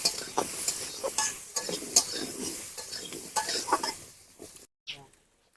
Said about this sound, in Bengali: হলুদ, সামান্য লবণ দিয়ে আলুগুলো তো ভালো করে লাল করে ভেজে নেবো